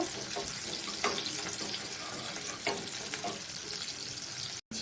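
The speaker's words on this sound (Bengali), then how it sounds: "গ্যাসের ফ্লেমটা একটু বাড়িয়ে পেঁয়াজটা একটু হালকা ভাজা ভাজা করে নেব।" Onion frying in a pan over a raised gas flame, a continuous close sizzle with a few sharp stirring clicks and scrapes scattered through.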